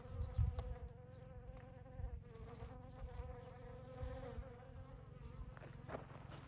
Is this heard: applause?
no